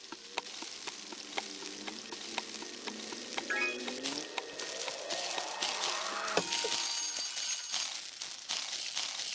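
Tomato and onions frying in My Universe Cooking Star Restaurant: a steady, moderately loud sizzle runs throughout, with light patter and a rising tone partway through.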